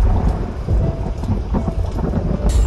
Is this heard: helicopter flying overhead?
no